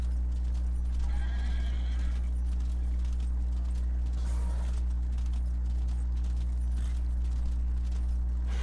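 Horse in the video game Darksiders, hooves clip-clopping steadily with a whinny over a constant low game drone and a faint ambient wash.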